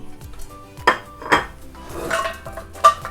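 French fries are tipped and spread in an air fryer basket, making a few sharp metallic clatters and scraping rattles between quieter handling sounds.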